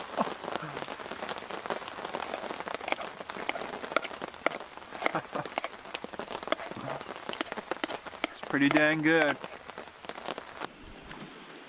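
Steady rain pattering on a canoe at a hammock campsite, a dense close drumming of drops throughout, with someone speaking briefly near the end.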